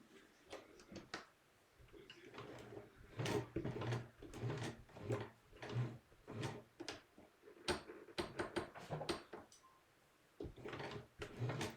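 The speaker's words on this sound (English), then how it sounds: "I'm just running it by hand first so I can see." A sewing machine with a zigzag foot turned slowly by hand gives a steady run of soft mechanical ticks and clunks, close and fairly quiet, repeating in a loose rhythm throughout.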